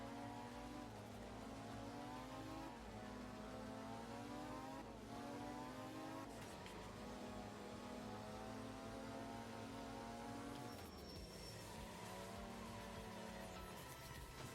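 Race car engine in a racing video game revving and accelerating, pitch climbing and dropping with several upshifts, loud and steady with no talk.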